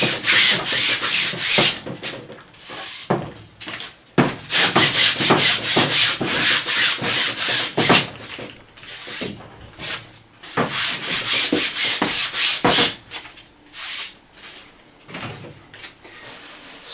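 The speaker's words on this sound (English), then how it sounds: "I like to sandpaper the side as well." Sandpaper rubbed back and forth along the wooden side of a canvas stretcher frame, in steady bursts of dry scratchy strokes with brief pauses, close and fairly loud.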